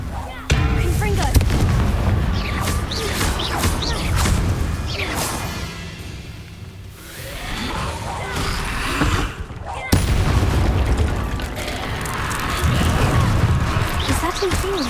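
A Confringo blasting spell in Hogwarts Legacy booms out in a dense, loud roar amid constant rumbling game effects and music. Explosive bursts recur across the span.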